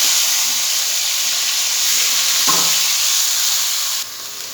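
Onion paste sizzles loudly and steadily in hot oil in a pan that already holds fried potatoes, with a brief stir or clatter partway through.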